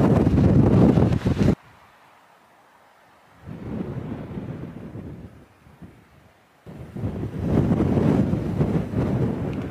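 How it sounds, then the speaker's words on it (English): Strong gusts of wind roar against the microphone on the summit of Mount Fyffe, dropping to near quiet between bursts before surging loudly again. "It's a bit windy."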